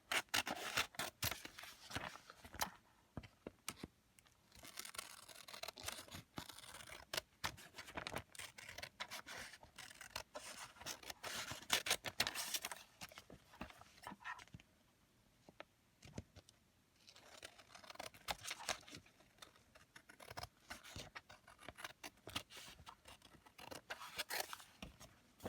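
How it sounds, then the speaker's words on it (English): Scissors cut along the edge of thick paper in a long run of crisp snips and rough rasping, with steady close-up cutting broken by short pauses and no voices. "use a pair of scissors. And all you need to do is cut along the edge of the thicker piece of paper"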